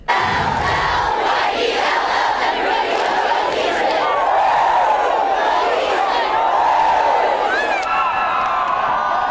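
Fired-up Wolves fans at a high school football game on the road at Eastlake roar and cheer nonstop, a loud, dense crowd wall of shouting that holds steady throughout.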